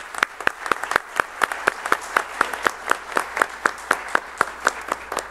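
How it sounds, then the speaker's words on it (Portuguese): Sparse applause from a small audience honouring a book's two authors, with distinct hand claps in a steady, fairly even rhythm, close and moderately loud with no one talking. "eu peço aqui uma salva de palmas às duas pessoas autoras do livro"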